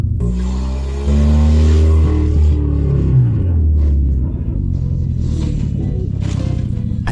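A car recovered from under the ice of a lake and brought back to life drives along with a loud, close, rumbling engine that surges and then settles into a rough, steady drone.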